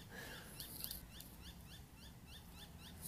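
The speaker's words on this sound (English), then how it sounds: "I don't know if you can hear those birds" Birds call outdoors with a run of short, faint, high chirps repeating in a steady rhythm at a distance, with no talking.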